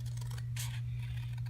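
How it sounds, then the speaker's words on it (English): Scissors fussy cutting a paper typewriter shape for a Stampin' Up! card, a brief close snip and scrape over a steady low electrical hum, with no talking. "Next up, we got to fussy cut the typewriter out."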